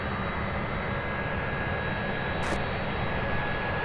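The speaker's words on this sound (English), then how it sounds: "Right there in front of camera B, our first A300 pushback." A UPS Airbus A300 pushing back at Louisville airport produces a loud, unbroken jet rush with a thin steady whine, constant from start to finish.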